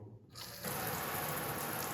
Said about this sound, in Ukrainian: давай тепер включай, як вода біжить